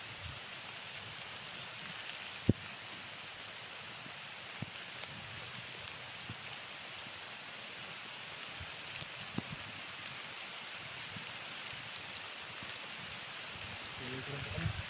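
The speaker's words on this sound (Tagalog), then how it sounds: "Ulan. Biglang umulan. At habang malakas yung ulan." Heavy rain falls during sudden bad weather outdoors, a constant dense hiss with scattered louder drops and thuds throughout.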